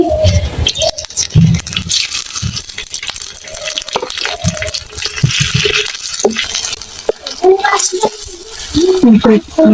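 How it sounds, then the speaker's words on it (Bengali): Ginger paste, onion and green chillies fry in hot oil in a village kitchen, giving a steady close sizzle with scraping and stirring against the pan, while someone talks over it. "মরিচগুলো ভাজা হয়ে গেছে"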